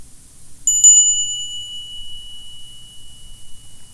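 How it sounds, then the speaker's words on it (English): A traditional Tibetan bell is struck, giving three quick bright rings close together, then a long clear tone that fades slowly over quiet room noise. "We have our other bell."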